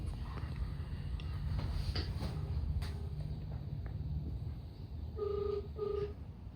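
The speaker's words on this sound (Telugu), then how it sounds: "మా చెల్లికి డైరెక్ట్ కాల్ చేద్దామని" A phone call being dialed at home: two short electronic keypad tones sound near the end, over a steady low background hum with faint movement.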